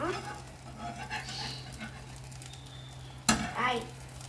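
A bread omelette frying in a pan as it is folded, soft sizzle under scraping spatula strokes, with a sharp clatter near the end followed by brief stirring.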